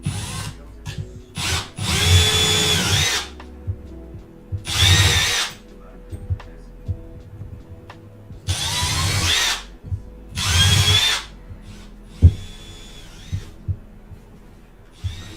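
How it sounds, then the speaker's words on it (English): Power drill boring starter holes into wood in several separate runs, each a loud, close whir of a few seconds with quieter gaps between, a faint background hum, and one small knock near the end. "Got my starter holes there."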